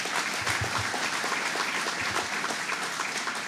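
An audience at a Charter Communications event in Henrietta gives sustained applause for the mayor and county executive, a thick wash of many clapping hands holding steady, with a few low thumps near the start.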